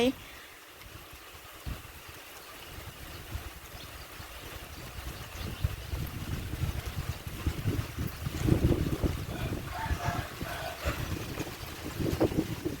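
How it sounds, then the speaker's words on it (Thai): Wind gusts rush and roar across the microphone on a rainy morning in Laos, building into louder buffeting after a quiet start while a voice speaks over it. "เสียงลมเด้อพี่น้องเด้อ"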